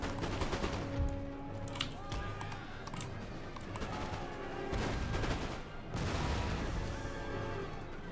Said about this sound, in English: They've got infantry units shooting to their rear